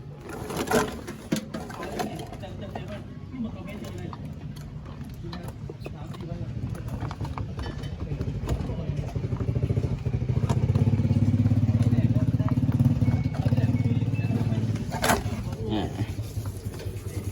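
A washing machine runs during a fill test of a model with weak water flow into the tub, giving a steady mechanical hum and rumble that swells in the middle and stays close, with a voice heard at times.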